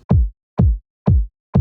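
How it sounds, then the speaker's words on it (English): A main kick drum sample in an electronic track hits four times in a steady, even pulse, each thump deep and boomy with a quick attack and short decay, clean and isolated. "the main kick drum sounds like this"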